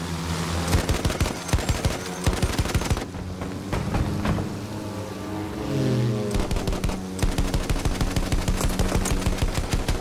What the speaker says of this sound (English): Anti-aircraft guns, there!